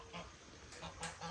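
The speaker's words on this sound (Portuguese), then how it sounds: "Tem um ganso ali" A goose honks outdoors at the edge of a rural farm property, giving a few short, moderately faint calls spread across a couple of seconds over a quiet background.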